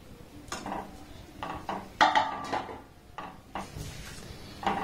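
Small pieces of chushi pitha tipped into thickened milk in a pan on a gas stove, making a series of soft clinks, scrapes and knocks of utensil against the pan, fairly close and moderate in level, with no talking.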